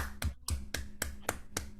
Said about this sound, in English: Oh, I can clap.